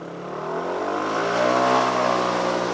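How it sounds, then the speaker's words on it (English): A car approaching and passing close by on a road, a steady rising engine and tyre roar that swells toward the middle and stays loud to the end, with no voices. "there's a car coming"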